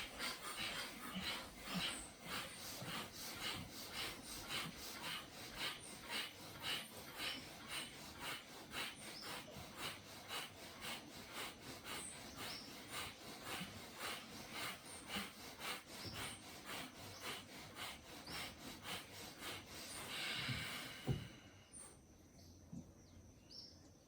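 A group doing breath of fire, the rapid rhythmic forced exhale, at a conscious breathing workshop during a fruit festival: dense, even, fast puffs of air repeat for about twenty seconds, then stop abruptly into quiet.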